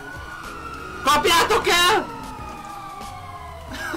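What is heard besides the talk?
police car siren in the video game GTA 5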